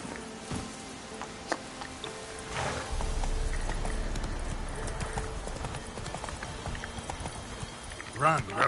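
Roach the horse gallops in a video game, a fast rhythmic clip-clop of hooves on the ground, steady and close, with a voice talking over it.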